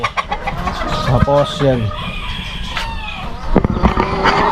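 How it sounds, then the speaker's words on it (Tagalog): Chickens and young chicks cluck and chirp close by in a rapid, irregular series, with someone speaking briefly over them and a faint passing car in the background. "Lalabas lang natin mga kalaki yung ating mga sisiw."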